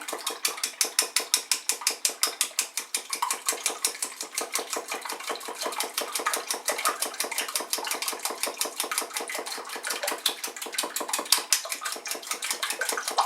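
Fresh eggs whisked briskly in a bowl, a fast steady rhythmic clicking of the whisk against the side, close and continuous throughout with no talking.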